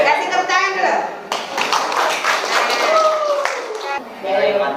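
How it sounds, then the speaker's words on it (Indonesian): Students in a classroom give a short round of applause, clapping in a brisk cluster close by, with voices talking over it. "Kasih tepuk tangan dulu."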